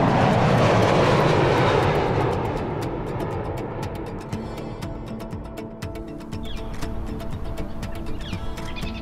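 A Boeing 787 Dreamliner jet on a test flight roars loudly overhead, then its engine rumble fades gradually into the distance, leaving a quiet background with faint birdsong.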